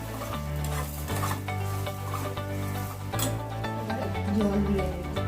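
Food stirred in a frying pan, sizzling steadily while a utensil scrapes and clinks against the pan in irregular strokes, with a low steady hum underneath.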